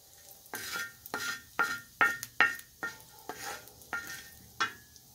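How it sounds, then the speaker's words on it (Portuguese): An egg is cracked and cooked in a frying pan beside already-fried sausage, heard as a series of close, sharp scraping and tapping strokes over a faint, quiet sizzle, with no talking. "Aqui agora eu vou fazer o nosso ovo."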